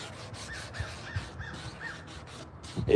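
A crow caws from a tree, a rapid series of about six hoarse calls at a steady rhythm, somewhat distant, over a faint scraping and rasping of wood being carved nearby.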